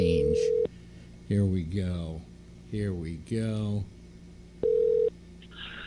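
A landline telephone dialing a long-distance call to the other coast of the United States: sustained dial tones and tone bursts alternating with warbling electronic tones, close and clear, as someone speaks briefly.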